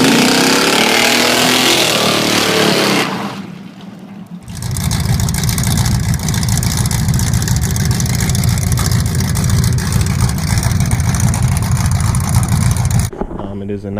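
Steady, loud engine drone of a primer-coated 1988 Camaro daily driver heard from inside the car while driving, running continuously for most of the stretch after a brief dip, with no talk over it.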